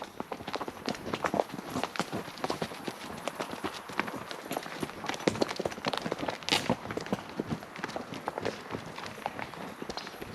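Horses walking with hooves clip-clopping in a steady, uneven patter of close footfalls, heard alone at moderate loudness throughout.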